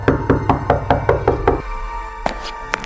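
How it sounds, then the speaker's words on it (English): Seven quick, loud knocks on a door in an even rhythm, followed by a pause and then two sharper isolated knocks, close and dry with no talking. "I knocked 1 more time out of desperation."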